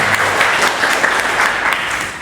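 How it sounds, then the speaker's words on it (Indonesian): A mosque-management gathering bursts into audience applause, a dense, loud wash of clapping from many hands that holds steady for a couple of seconds. "berikan aplaus untuk Mas Andreas."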